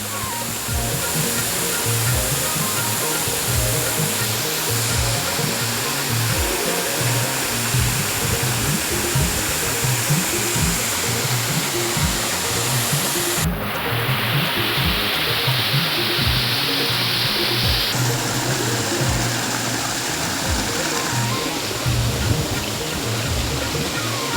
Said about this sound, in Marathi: मोठा उंचावाना कोसलना धबधबे कोकणातले हे बघा सुंदर असे धबधबे आहेत